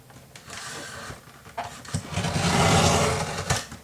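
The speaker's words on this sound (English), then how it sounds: "And yes, my Fiskars will cut it. Love that machine." A Fiskars paper cutting machine trimming the edges of a paper mini album, giving a loud, close mechanical whir and grinding that builds to a sustained roar, with a few clunks and no speech.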